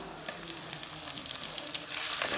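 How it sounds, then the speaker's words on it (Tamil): Ginger garlic paste sizzling in a hot pan in a tiny kitchen, a bright crackling fry with sharp pops that swells louder toward the end. "நான் இஞ்சி பூண்டு பேஸ்ட் அப்படியே போட்டுடுறேன்"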